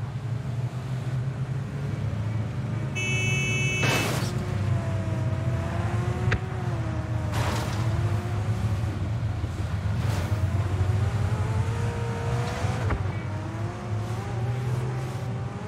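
A motorbike engine in a video game's custom blizzard mode whines steadily, its pitch sweeping up and down as it revs. A few sharp bangs cut across the continuous drone.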